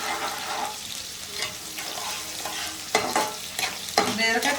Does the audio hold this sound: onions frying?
yes